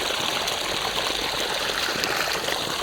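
Water pours steadily from a motor-fed pipe into a maize field, a continuous broadband rush and splash, close and fairly loud, with no talk over it.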